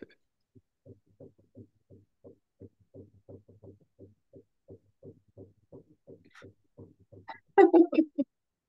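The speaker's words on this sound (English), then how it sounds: "That's the washing machine." A washing machine running in the background of an online group call gives a faint, steady rhythmic thumping of soft regular pulses about every third of a second. A brief louder voice cuts in near the end.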